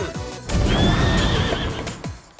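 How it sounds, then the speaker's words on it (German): A loud horse whinny in Miitopia on Nintendo Switch, with a wavering, drawn-out cry, preceded and followed by short thuds and game-like effects. "Ich liebe es, wenn das Pferd sich bemerkbar macht."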